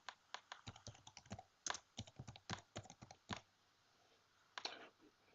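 Fingers tap a computer keyboard in quick irregular bursts of close clicks, pausing about a second before a final short cluster; quiet room, no speech.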